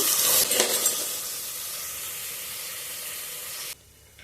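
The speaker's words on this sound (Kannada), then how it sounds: "ಇವಾಗ ಒಂದು ಅರ್ಧ ಸ್ಪೂನು ಅರಿಶಿಣದ ಪುಡಿ ಹಾಕಿ ಚೆನ್ನಾಗಿ ಫ್ರೈ ಮಾಡ್ಕೋಬೇಕು." Crabs and turmeric powder sizzling loudly in a hot pan, a dense steady frying hiss with stirring up close that cuts off sharply near the end, leaving quieter background.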